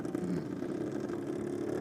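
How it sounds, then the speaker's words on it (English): A junior dragster engine at a NSW championship drag racing meet, a sharp, steady buzzing engine note held for a couple of seconds, moderately loud and continuous with no pauses. "That sounds very, very sharp, the engine in Harry Ryko's car."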